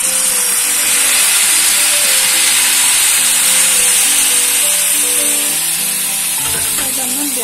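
Water from a kettle goes into a hot pan, setting off a loud, continuous sizzle and hiss of steam close up that fills the whole stretch, with faint background voices underneath.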